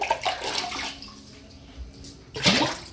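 Water runs and splashes into a basin, steady at first, then a louder gush of pouring near the end.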